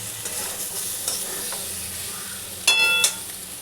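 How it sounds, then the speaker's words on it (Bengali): Water poured into a hot pan while cooking a Bengali potato and pointed gourd curry, bursting into a loud steamy sizzle for about half a second over a steady background of frying and stirring. "জল আমি একটু দিয়ে দিলাম।"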